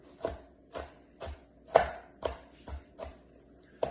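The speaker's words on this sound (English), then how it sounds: "chop them further with my knife to make sure that they're nice and tiny" A knife chops onion finely on a board in crisp, evenly spaced strokes, roughly two per second, close and fairly quiet with no talk.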